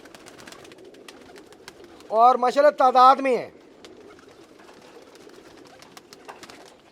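Pigeons of mixed breeds kept for sale give one clear bout of cooing, several rapid coo pulses close by for about a second, with someone speaking briefly and quiet background chatter around it.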